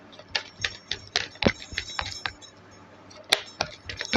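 Tarot cards shuffled by hand, a series of crisp close snaps and riffling clicks in an uneven rhythm, some strokes louder than others, with no talking.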